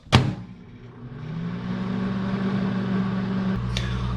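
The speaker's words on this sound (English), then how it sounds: "And then throw it in the microwave for 15 seconds." A microwave oven heating a mixture for edible glitter, a steady low electrical hum that starts after a door clunk and runs evenly, ending with a faint click.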